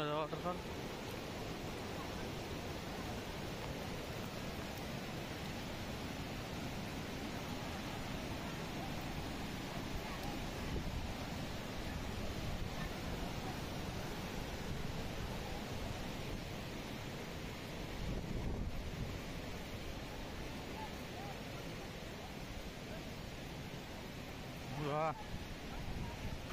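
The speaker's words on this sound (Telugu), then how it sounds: "మస్తుంది కదా వాటర్ ఫాల్." Kalu waterfall seen from below sends up a steady broadband roar for the whole stretch, mixed with wind buffeting the microphone and muffled voices in the background.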